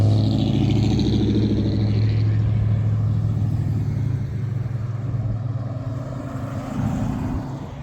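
Cars and trucks rolling along Route 66 in Seligman, Arizona, a loud steady engine drone with a low hum that eases slightly midway, then swells again as another vehicle passes close.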